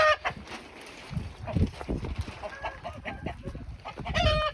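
Hens cluck and murmur nearby in a coop where they lay eggs, in an irregular, restless chatter, with a few sharper squawks and rustling movement in between.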